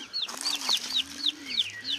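Chickens, hens and a rooster, cluck close by in a busy, repeating series of short calls, with a low murmuring coo running underneath.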